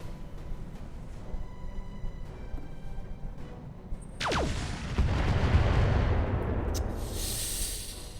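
Airstrike explosions in the Roguetech BattleTech mod: a sharp boom hits midway, followed by a swelling, rumbling roar of blasts that stays loud to the end over a lower background hum.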